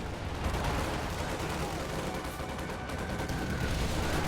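Gunfire in a World War II strategy game battle against flamethrower squads, rapid overlapping shots and bursts within a constant roar of combat noise.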